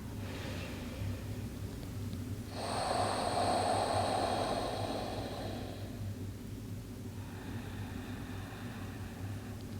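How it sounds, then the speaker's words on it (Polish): A person takes a slow, deep breath during a yoga stretch. One long, fairly close exhale swells in the middle and fades, set against a steady hum in the background. "Weź jeszcze dwa swoje oddechy."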